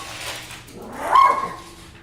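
A dog gives a single short, loud bark or yelp that rises and falls within a second, standing out close and alone against a quiet indoor room.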